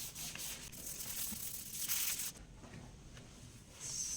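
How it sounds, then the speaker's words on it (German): A sanding sponge rubs over a painted paper surface in a steady, close, raspy scrubbing that runs continuously with slight surges and no talking. "Nehmen wir hier mein Schleifschwämmchen und gehen da einfach mal drüber."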